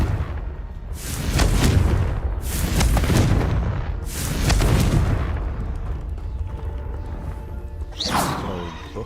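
Repeated booming blasts from the Confringo explosion spell in Hogwarts Legacy, three heavy bursts spaced about two seconds apart with rumbling tails, followed by a brighter crackling burst near the end.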